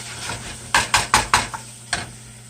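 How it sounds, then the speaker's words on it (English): Garlic being stirred in a cooking pot, a run of five or six sharp scraping knocks of a utensil against the pot in quick succession, with a faint sizzle underneath and no talking. "Give it a stir around."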